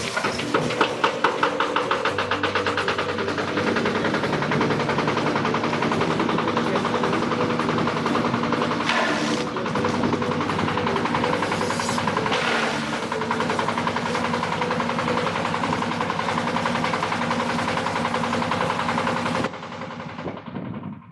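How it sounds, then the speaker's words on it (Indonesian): Grass chopper machine cutting grass into small pieces for cattle and goat feed, a loud continuous mechanical clatter with rapid rhythmic knocking and engine drone, running steadily alone before cutting off near the end. "Chopper berfungsi untuk memotong rumput menjadi bagian-bagian kecil sehingga bisa dikonsumsi dengan mudah oleh ternak"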